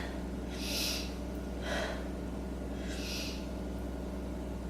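Slow, deep breaths during a beginner yoga session, with several soft airy inhales and exhales spaced a second or two apart. They sound close and gentle over a steady hum in a quiet room.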